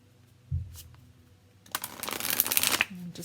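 Modern Love Tarot cards riffle and shuffle close by, a soft tap first, then a dense rising flutter of cards over the last half.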